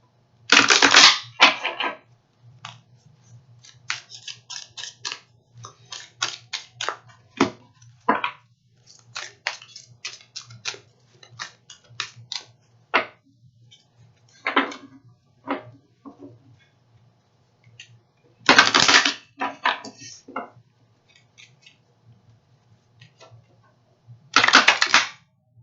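Oracle card decks shuffled by hand, with repeated crisp riffling bursts and scattered card snaps and taps, fairly close, over a faint low hum, with no talking.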